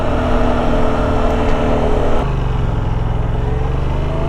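A 2017 Yamaha FZ-07 motorcycle cruising at about 60 mph in fourth gear, its engine a loud, steady drone with wind rush; the pitch drops and settles partway through before the drone holds even again.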